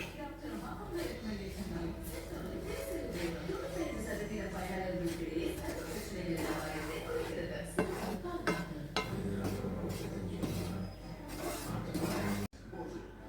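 Rice powder is mixed in a pan with a utensil, a run of scraping, rubbing strokes and light clinks against the metal under ongoing talk, ending with a sudden clunk.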